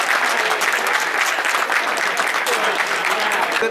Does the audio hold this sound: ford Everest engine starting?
no